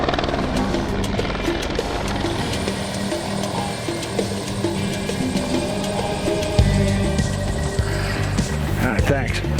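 A search and rescue helicopter drones nearby with loud, rapid rotor chopping and a mechanical whine, while people talk over the constant engine noise.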